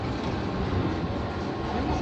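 A passenger train in Osaka, Japan rumbles along in a steady, close, continuous roar with no clear voices.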